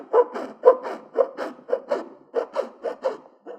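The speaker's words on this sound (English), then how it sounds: "we can come back with a file and clean up the holes to match the indentation in the visor" A hand file scraping back and forth to clean up freshly drilled holes in a Polaris GENERAL off-road vehicle visor, a close, even series of rasping strokes in a steady rhythm with no talk.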